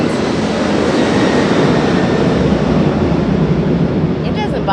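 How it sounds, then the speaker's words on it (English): A commercial airplane passes close and low overhead near a supermarket, a loud, steady broadband roar that fills the whole stretch without fading, with a faint voice near the end. "Y'all can hear the airplanes."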